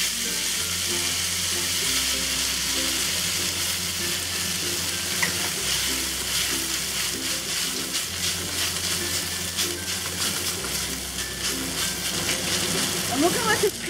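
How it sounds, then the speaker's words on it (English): Noodles pan-frying in oil over medium-high heat for Hawaiian-style cake noodles, a continuous close crackling sizzle with a faint hum underneath. "we're gonna pan fry the noodles"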